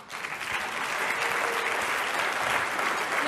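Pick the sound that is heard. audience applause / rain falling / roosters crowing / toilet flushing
audience applause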